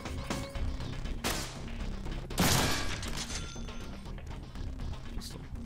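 Pistol gunfire in the Deadpool video game, several sharp shots and crashing impacts over about five seconds amid game sound effects.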